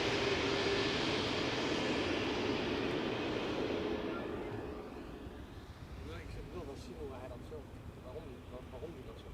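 A Transavia Airbus A321neo arriving at Amsterdam Schiphol makes a broad, loud engine roar that fades after a few seconds into a softer rumble and background noise, with no talking.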